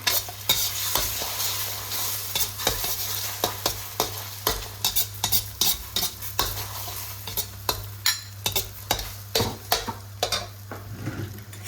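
A spatula scrapes and clatters rhythmically against a wok while eggs stir-fry with a steady sizzle underneath, close and continuous.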